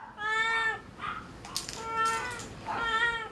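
A cat meows several times inside an animal hospital, a series of clear, moderately loud calls with short pauses between them, with some other animal noise in the room and no talking.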